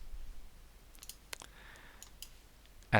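A few quiet computer mouse clicks while pressing the execute button in PixInsight astrophotography software, sparse and close, with a sharper knock at the very end.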